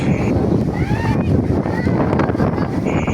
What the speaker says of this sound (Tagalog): kusog na samot jud ang hangin